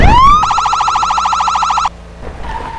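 A police siren in the video game Enforcer: Police Crime Action rises, then warbles in a fast rapid yelp for over a second before cutting off, leaving quiet background noise.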